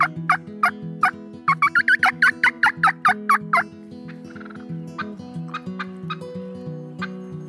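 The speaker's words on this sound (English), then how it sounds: "when they really get excited, they do what's called a cackle" A wild turkey hen cackles in a rapid, loud string of sharp clucks, then trails into quieter, spaced calls, heard clearly on its own.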